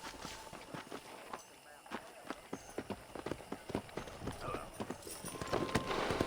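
Horse hooves galloping in the video game Red Dead Redemption, a quick, steady clatter of hoofbeats over noisy background, fairly close and moderately loud.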